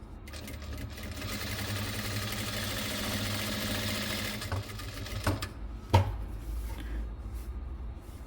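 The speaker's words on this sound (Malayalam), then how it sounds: "ഇനി ഈ സൈഡിലൂടെ ഒന്ന് തയ്ച്ചെടുക്കുക" A sewing machine stitches the neck of a churidar, a steady close mechanical whirr running for several seconds, then slowing into a few short bursts and clicks.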